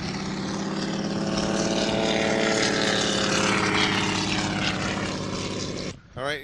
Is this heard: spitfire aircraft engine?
yes